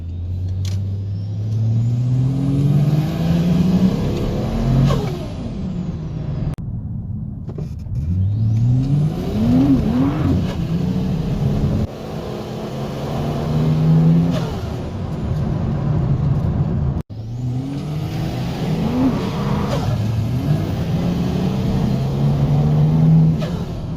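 A powerful ute engine builds hard through the gears on an open road, each surge of rising revs broken by a brief dip at the shift, loud and close inside the cab, repeated several times with no talk.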